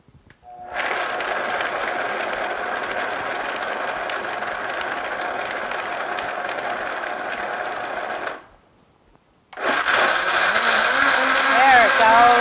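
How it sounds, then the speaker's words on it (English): A Vitamix blender whirs at a loud, steady high-pitched roar for about eight seconds, stops briefly, then starts again with a rising, churning whine as it blends almond milk. "Okay, let me turn the Vitamix on."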